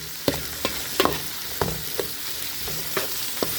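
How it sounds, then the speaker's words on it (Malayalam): Onions frying gently in a pan for a mutton peanut masala, a steady soft sizzle broken by periodic scraping stirs of a spoon against the metal, close and moderately loud with no talking. "ഉള്ളി ചെറുതായിട്ടൊന്ന് ഫ്രൈ ആക്കി ഒന്ന് വാട്ടിയെടുത്താൽ മതി"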